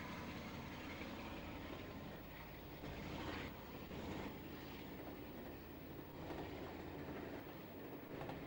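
A locomotive-hauled passenger train at Stranraer rumbles past steadily at moderate distance, a continuous broadband roar with no voices.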